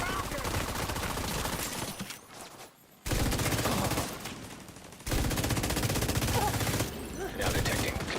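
A deployed turret fires in rapid automatic bursts in a shooter game, loud sustained streams of gunfire broken by short pauses.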